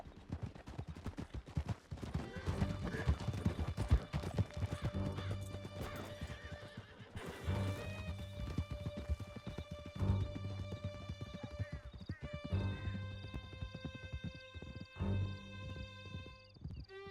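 A horse gallops with steady clip-clop hoofbeats and a whinny, ridden in Red Dead Redemption 2, with gunfire bursts and game music mixed in along the way.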